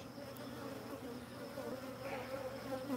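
Honeybees humming inside a queenless hive, a continuous close, dense buzz with steady loudness throughout.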